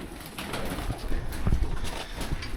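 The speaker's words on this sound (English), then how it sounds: "there's so many birds in here, and a lot of bird poop" Pigeons or doves coo repeatedly inside a cattle barn, their soft low calls overlapping at a moderate distance, with faint barn background noise and a sharp knock at the end.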